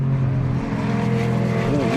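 A McLaren GT race car circuits Donington Park during a GT Cup Championship round, its engine a loud, steady drone with harmonic tones that shift near the end as it accelerates through a corner.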